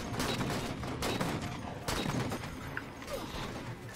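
Gunfire from a Roblox video game: dense, continuous bursts of shots with a few sharper cracks standing out, fairly faint and steady throughout, with no talk over it.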